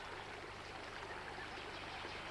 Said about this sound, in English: In the forest, the streams run cool and clear.